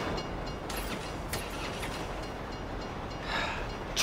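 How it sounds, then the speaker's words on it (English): A train in GTA V's snowy North Yankton rumbles past as steady, broad rolling noise, with a few brighter metallic swells over the wheel roar. "If you were local, you'd know the train comes by right now."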